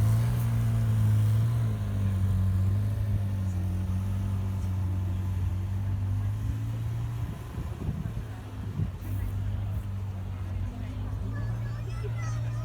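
A McLaren sports car engine idles quietly at a classic and sports car show by a lake, a steady low hum running throughout while people talk nearby.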